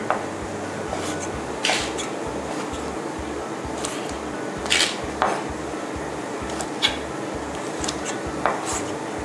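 A knife slicing squid into long strips taps steadily against a cutting board in a quick, regular rhythm, with occasional sharper clinks, close by and fairly quiet.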